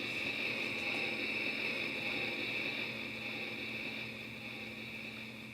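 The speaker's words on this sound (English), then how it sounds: "And you can hear the engine kind of idle," Idle hum from the electronic engine of a Vintage Collection Smugglers Run Millennium Falcon toy, a steady whirring drone with a high whine that holds evenly and fades slightly toward the end, heard alone.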